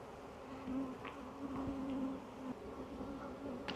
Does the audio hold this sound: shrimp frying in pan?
no